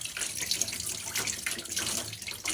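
Tap water runs continuously into a sink while a portion of chapati flour or dough is washed, with a close, steady splashing stream over the whole stretch.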